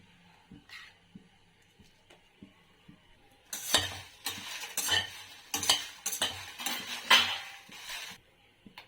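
Dried red chillies frying in oil for an Andhra dried shrimp chilli powder, scraped and stirred with a metal ladle; faint crackle at first, then repeated loud scraping strokes against the pan in an uneven rhythm.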